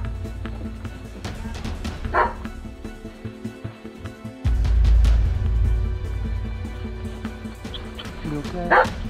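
Dogs bark and yip during a pet rescue in Hurricane Harvey flooding, with a few sharp barks and whimpers over a rumbling, noisy background and people talking nearby.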